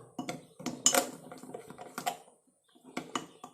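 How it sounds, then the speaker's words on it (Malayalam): A spoon clicks and scrapes against a bowl while coffee powder is mixed into a hair pack, giving a run of close, uneven taps with a short pause near the end. "ഇതിട്ട് നമുക്ക് നല്ലപോലെ ഇളക്കി യോജിപ്പിച്ച് കൊടുക്കുക"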